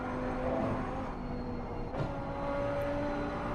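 A distant race car engine in a racing video game drones steadily, its whine shifting slightly in pitch, heard faintly beneath a broad wash of noise.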